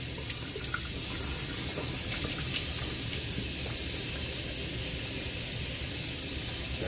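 Cold water runs from a tap during a wet shave, a steady rushing splash that grows slightly louder partway through, continuous and close with no talking.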